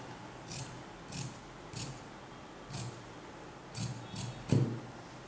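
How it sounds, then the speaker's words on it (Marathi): Scissors cut the neckline of a kurti fabric, with soft close snips coming one after another at irregular intervals against a quiet background. "कॉलरचा गळा आपण जिथून आपल्याला कॉलर लावायची तेथे आपण याप्रमाणे गळा कापून"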